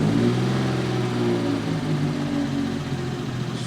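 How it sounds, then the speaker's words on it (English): Engine of a 1955 Jaguar XK140 MC running just after a cold start on the choke, a steady loud throbbing idle with even pulsing, no talking. "here we are in the XK140. We'll go ahead and fire it up. Key on, this is a cold start."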